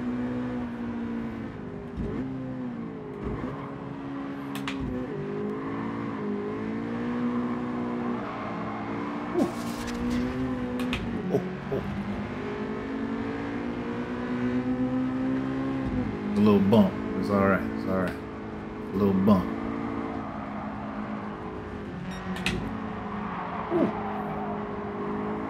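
Honda Civic race engines in Gran Turismo 7 drone steadily and shift pitch through gear changes across a race, with brief louder bursts midway, a voice talking over them at times.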